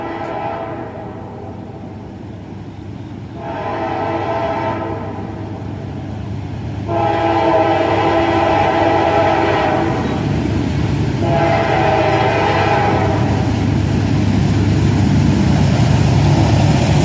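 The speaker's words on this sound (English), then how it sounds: "Four locomotives with a Union Pacific SD70 mag trailing" A freight train with four locomotives and a Union Pacific SD70 trailing rolls past nearby with a loud, steady rumble. Repeated horn blasts sound throughout, growing louder as the train draws closer.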